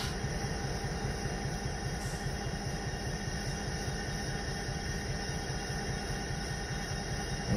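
Steady rushing hiss and low rumble of a GP38 diesel locomotive under full emergency braking in the railway game Railroader, a continuous even roar with no talk.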